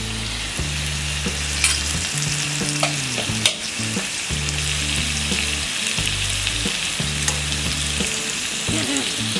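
Pumpkin sabzi (sweet-and-sour kaddu curry) cooking in a pan over a low gas flame, a steady frying sizzle with occasional stirring scrapes throughout, close and continuous under a low background hum.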